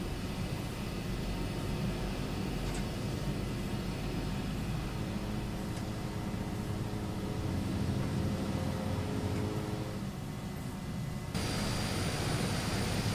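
Aerosoft Twin Otter twin turboprop engines taxiing in Microsoft Flight Simulator, a steady, loud, dense engine drone with a broad hiss that shifts tone slightly near the end, with no talking.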